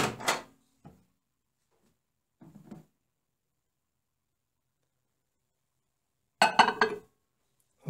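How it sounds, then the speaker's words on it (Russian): A glass of water set down inside a Samsung ME88SUW microwave oven: a few short, quiet clinks and knocks, then a louder bright clunk near the end, close-up in a silent room. "Устанавливаем стаканчик."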